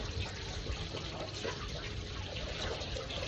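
Cloth dipped and swished in water mixed with detergent powder, a steady close wet sloshing and gushing that keeps going throughout with no talk.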